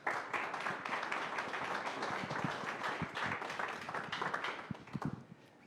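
An audience at a public forum at the Alliance Française gives a strong round of clapping, dense and steady, with sharp individual claps standing out before it thins at the end.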